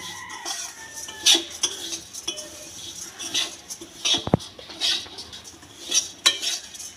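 Fried flattened rice (chire) stirred in a hot wok, a spatula scraping and clanking against the metal in irregular strokes, close and fairly loud, with a brief voice in the background.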